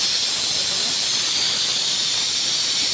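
An egg fries in a pan, giving off a loud, steady, close sizzling hiss that holds evenly throughout with no pauses.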